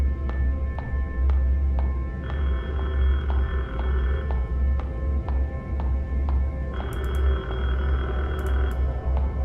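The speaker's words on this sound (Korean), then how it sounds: "어 전화 온다" A telephone rings in the horror game Detention. Two long, shrill ringing bursts sound over a steady low, murky ambient drone.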